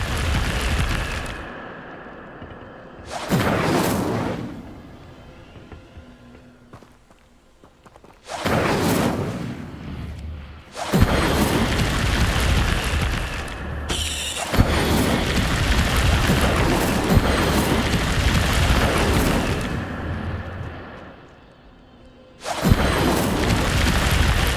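An Incendio fire spell cast in a Hogwarts video game roars as repeated whooshing, booming bursts of flame, loud and sustained, separated by quieter gaps.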